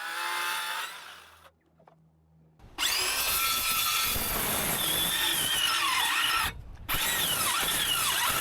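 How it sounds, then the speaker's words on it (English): A power saw trims excess length off timber subfloor bearers for a tiny barn build, a loud, rough whirring cut that drops away briefly, then resumes before a short pause and a final burst. "measure these bearers for length, chop the excess off"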